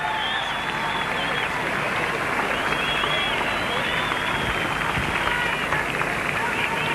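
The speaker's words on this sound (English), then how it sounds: "He's got an applause from the crowd, a big applause actually." Cricket crowd at a Test match in South Africa applauding a departing batsman, broad continuous clapping from a large distant stand, steady throughout with faint crowd murmur beneath.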